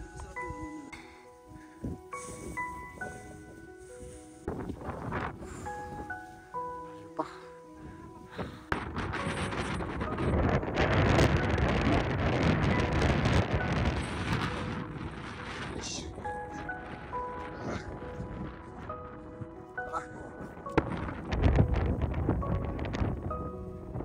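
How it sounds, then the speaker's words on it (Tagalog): Strong wind rushes across the hilltop of Mt. Sembrano during a day hike. Gusty roaring swells in after the first several seconds and stays loud, mixed with thumps and some tonal background sounds, while people talk. "Hilltop, lakas ng hangin."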